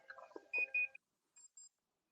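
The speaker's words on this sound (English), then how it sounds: "What is that beeping sound?" Short electronic beeps sound close and fairly quiet: a quick cluster of tones followed by two brief, high, clean beeps after a pause.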